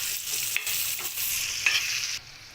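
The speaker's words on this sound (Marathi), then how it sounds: "आणि ती तेलामध्ये आता आपण फ्राय करून घेणार।" Cut okra frying in oil on a tawa with masala, a steady close sizzle broken by a few stirring scrapes, then quieter toward the end.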